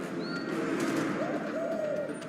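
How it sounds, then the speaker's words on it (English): A pigeon in the Spider-Man video game gives a soft, rolling coo over a busy city ambience, with a few faint chirps around it, moderately close. "This pigeon's strong."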